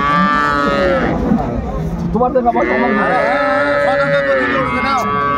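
Dairy cows and calves bellow at a cattle market, the Ambari haat in Dinajpur, with several loud, drawn-out moos overlapping one another against a busy background of crowd noise.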